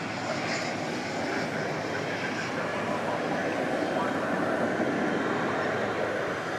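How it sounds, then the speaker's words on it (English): Spirit Airlines Airbus A321neo arriving from Las Vegas and touching down at DFW Airport at night, a steady broad jet roar that holds for several seconds, with a voice talking over it. "The Airbus A321neo. Touching down from Sin City."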